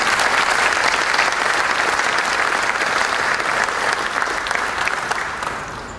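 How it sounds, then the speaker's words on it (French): Audience applause fills a new gymnasium at a speech, a dense, steady clapping crowd that holds loud for several seconds and then begins to fade. "vous pouvez l'applaudir."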